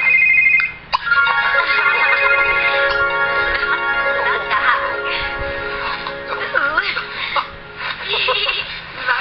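A phone rings in a video game, a bright repeating electronic ringtone sounding loudly through most of the moment while someone talks and laughs over it.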